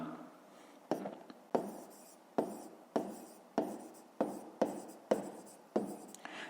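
A pen writes numbers in a school maths notebook during a fifth-grade lesson, in about eight short scratchy strokes close by, with brief gaps between them and no talk over them.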